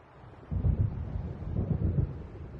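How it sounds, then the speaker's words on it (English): Thunder from an approaching storm in the game Alan Wake Remastered, a low rolling rumble that swells in after a quiet start and lingers with deep pulses, moderately loud and alone. "It seems there's a storm coming."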